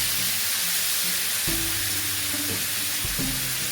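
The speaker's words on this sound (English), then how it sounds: "I'm going to fry this chicken breast and in a low flame" Steady, close sizzling of chicken breast frying in a pan over a low flame, a continuous crackling hiss with a few low hums and clinks partway through.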